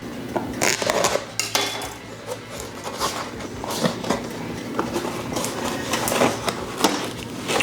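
A retail package of slow-cooked birria beef tacos being torn and opened, crinkling plastic and cardboard with clicks and rustles in uneven bursts, close and alone without talk.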